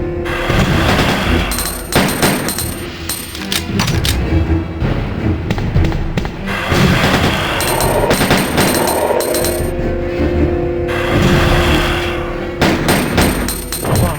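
Gunfire from the video game Resident Evil 2 rattles out in loud, repeated bursts of rapid shots and heavy thuds, broken by short pauses across the stretch.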